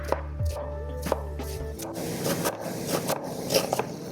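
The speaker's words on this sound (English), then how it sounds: "I try to cut this onion as small as I can" A knife chops an onion finely on a cutting board for shepherd's pie, a run of quick, crisp taps following a low steady hum, close and fairly clear.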